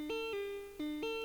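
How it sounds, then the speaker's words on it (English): A stock plucked guitar string sound from the Morph instrument, unprocessed, with a short phrase of clean, bright notes stepping between two pitches, moderately quiet and alone. "It's just a regular morphine guitar."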